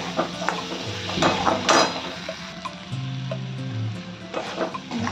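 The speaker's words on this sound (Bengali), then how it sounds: "এবার এগুলো একটু ভালো করে ভেজে নেব" Prawn stuffing seasoned with salt and ginger powder frying in a pan, a steady close sizzle with scraping stirs and utensil clinks, with soft background music and no talk.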